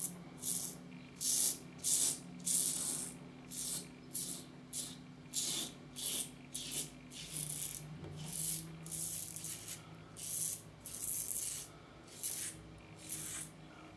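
Rockwell 6S safety razor making a pass across the grain of facial hair, a series of close, crisp scraping strokes in quick rhythmic bursts, alone without talk.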